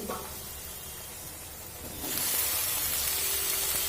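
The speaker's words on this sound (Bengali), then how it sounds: "এবার আমি এখানে দিয়ে দেব ভাপিয়ে রাখা প্রচুর লতি" Steamed coconut lotir tipped into a pan of fried potatoes: a soft background hiss swells abruptly into a loud, continuous sizzle partway through, with no talk.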